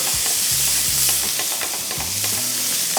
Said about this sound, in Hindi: इसको पहले थोड़ा सा फ्राई करेंगे।